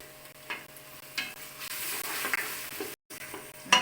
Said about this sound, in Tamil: தக்காளி எல்லாம் நல்லா வதங்கிடுச்சு நம்ம மசாலா ஐட்டம் சேர்த்துக்கலாம்